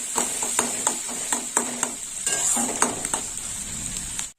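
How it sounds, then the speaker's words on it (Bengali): Chopped onion frying in hot oil with nigella seeds and dried chilli for a parshe fish curry, a steady close sizzle broken by rhythmic spatula scrapes and taps against the pan. "পেঁয়াজটা একটু লাল লাল করে ভাজা হবে"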